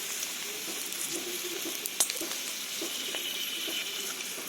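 Puffed maida flour dough deep-frying in hot oil, a steady dense crackling sizzle close up with a brief sharper clink partway through, no voices.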